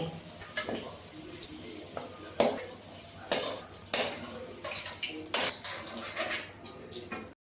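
Fried potatoes are lifted from a pan with a metal utensil, giving a series of irregular clinks and scrapes against the pan over a faint sizzle, close and fairly quiet.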